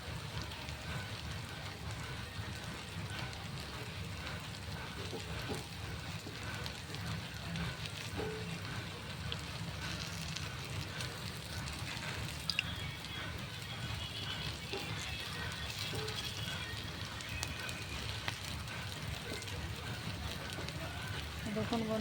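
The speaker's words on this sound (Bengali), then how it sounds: "বাকি এগুলো আছে, এগুলো ভেজে নিই বন্ধুরা" Chops sizzle and crackle steadily in hot oil in a frying pan, a dense rain-like hiss running without a break at low to moderate level, with small scattered pops.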